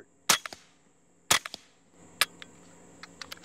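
A few sharp, muted gunshot cracks nearby from a suppressed 9mm rifle, spaced about a second apart, the last one quieter, with small clinks and rattles in between.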